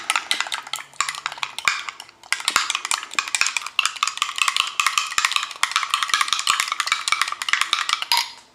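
A utensil stirs chili ingredients in a pot, scraping and clinking against the metal in a steady, close, repeated rhythm with one brief pause partway through and no talking.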